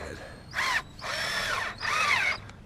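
A hand tool tightening a fitting on a backyard sump pump, three bursts of ratcheting, whirring mechanical sound, one short and two longer, close by with brief pauses between.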